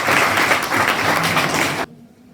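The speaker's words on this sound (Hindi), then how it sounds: "इनके लिए भी आप ताली बजा सकते हो" Seminar audience at a college clapping together, a dense, loud burst of applause that holds steady for about two seconds, then cuts off abruptly into quiet.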